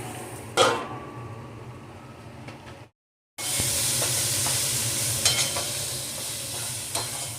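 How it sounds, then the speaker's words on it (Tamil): Chopped capsicum sautéing in a pan makes a close, steady sizzle with a few stirring scrapes. It breaks off into a brief silence partway through, then resumes just as loudly with scattered crackles. "கொஞ்சம் வதங்கட்டும். இதை நான் மூடி வைக்கிறேன்."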